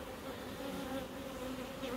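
Honeybees swarm over a hive frame during a beekeeping inspection, a dense, continuous close-up buzzing drone with steady pitch and no breaks.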